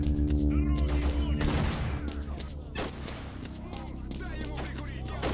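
Bursts of gunfire against bandits in S.T.A.L.K.E.R. Lost Alpha, set around Yantar at nightfall: several sharp, loud shots over steady droning in-game music and ambience.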